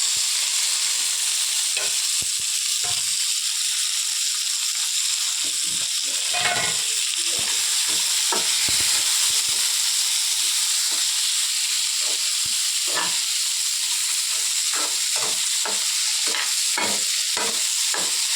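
Tomato, onion, green chili and coconut fry in a pan for shorva, a steady sizzle and hiss running throughout with repeated scraping stir strokes, close and alone without talk.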